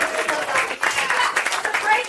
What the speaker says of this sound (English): Mike Casano, give him a round of applause.